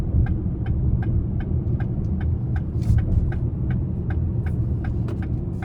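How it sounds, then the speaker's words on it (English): A 2026 Lincoln Nautilus Premiere II AWD accelerating on an interstate, heard from inside as a steady low road and engine rumble with faint regular ticking above it, no talk. "I'm gonna try to give it a little bit of throttle again on the interstate here"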